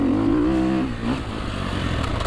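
A 2024 Sherco 300SEF Factory Edition dirt bike in third gear on a track lugs low, then pulls away with a rising engine note and a short rev change before settling into a steady, close running drone.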